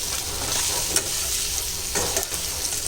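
Potato fry being stirred in a pan on the stove, a steady close sizzle of frying with soft scraping strokes of the spoon recurring about every second.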